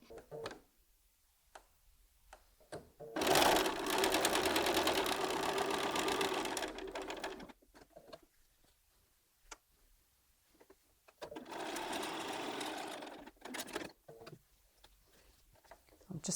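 A sewing machine stitches strips of quilt fabric together, running in two steady, close bursts of several seconds each, with quiet handling noises in the gaps.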